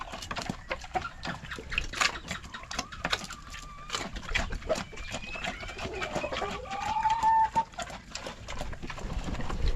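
Ducks on a farm, calling amid a busy scatter of bird sounds, with sharp, repeated calls and clucks close by, continuous and fairly loud over a short stretch of farmyard ambience.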